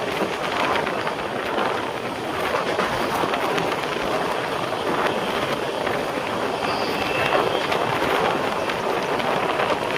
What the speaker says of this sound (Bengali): আরো একটি লোকাল ট্রেন ঠিক লাইনে যাচ্ছে।